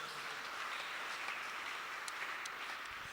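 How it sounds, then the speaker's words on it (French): A congregation applauds steadily throughout, a dense wash of clapping at a Sunday French-language Protestant church service of the CEC Mvuzi parish, with no talk over it. "Acclamons pour la gloire du Seigneur"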